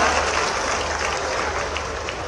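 Crowd applause at a live public event in Bhopal attended by the Madhya Pradesh Chief Minister, a brief steady wash of clapping at constant loudness.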